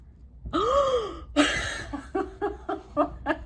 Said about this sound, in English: just hearing me gasp into my microphone